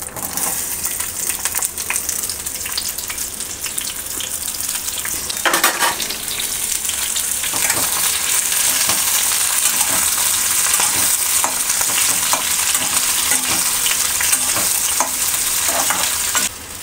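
Onion frying in hot oil in a kadhai, a steady loud sizzle running throughout with stirring scrapes and a brief dip near the middle, no voices.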